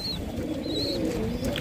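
A pigeon gives low, soft cooing close by, a steady murmuring call under faint background noise.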